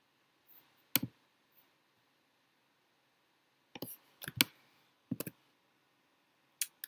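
A computer mouse gives a handful of crisp, close clicks, some single and some in quick pairs, spread across otherwise near-silent stretches.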